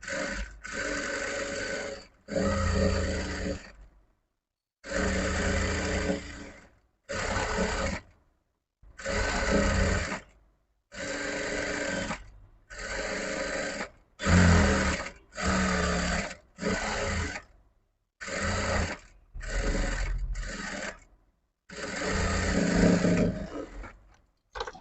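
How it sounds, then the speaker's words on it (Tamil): Sewing machine running an edge seam on a blouse, a series of short whirring stitching bursts separated by brief pauses, close and clear with no talking. "இப்போது இதில் ஓர தையல் ஒன்று போட்டுக்கலாம்."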